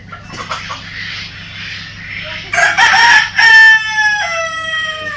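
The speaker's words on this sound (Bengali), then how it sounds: "ফার্মি মুরগি, মোরগ" Large farm chickens and roosters at a quail farm and hatchery in Dhanbari call out nearby: scattered clucks first, then a loud rooster crow with a long, drawn-out tail rising clearly above the flock.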